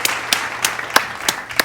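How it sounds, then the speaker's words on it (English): Clapping sound effect added in editing: a few short, sharp claps spaced irregularly across the moment, crisp and fairly close, with no talking. "I'll put clap noises over there."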